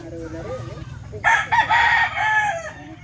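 A rooster crows loudly and close by, a long rising call, with chickens clucking and faint chatter in the background.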